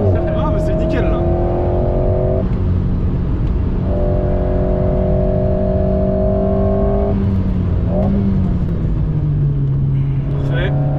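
An Alpine A110S fitted with an aero kit accelerates at full throttle on the Clastres circuit, its engine note holding steady and loud before climbing and shifting pitch across the run, with people talking over it.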